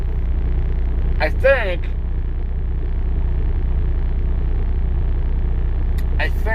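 A steady low engine rumble from inside a truck cab drones throughout, with a person talking over it.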